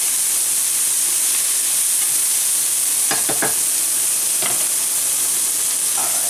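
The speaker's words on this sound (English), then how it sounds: "we brown those patties there" Salisbury steak patties browning in a pan give a steady, loud sizzle and hiss throughout, with a few short scrapes and stirring clicks around the middle.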